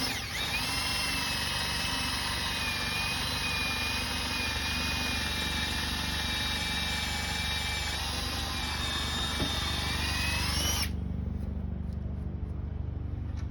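A steady, loud power drill whirs continuously for about eleven seconds, drilling a pilot hole in wood, its pitch holding high and even, then cuts off abruptly, leaving a low hum.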